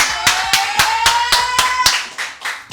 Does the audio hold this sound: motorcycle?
no